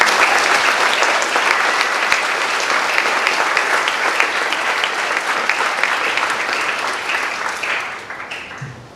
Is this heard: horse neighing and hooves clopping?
no